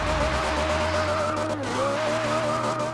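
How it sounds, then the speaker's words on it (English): A car in Forza Horizon 2 scrabbling for grip while bouncing off the rev limiter, a held high engine whine with wavering pitch over steady tire squeal, loud and continuous. "Scrabbling around for grip and bouncing off the limiter"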